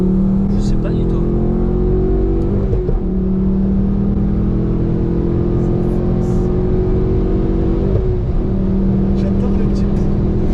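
A car engine revs loudly through an exhaust fitted with a decat pipe, rising in two surges with a dip near three and eight seconds, droning steadily close by.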